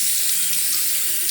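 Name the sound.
water running from tap over wet slate honing stone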